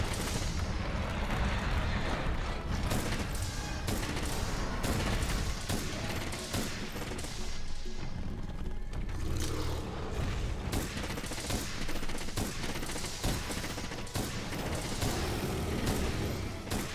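Heavy bowgun firing pierce ammo in Monster Hunter World during a fight against Uragaan, a dense barrage of loud booming shots and impacts layered over game effects and music, continuous throughout.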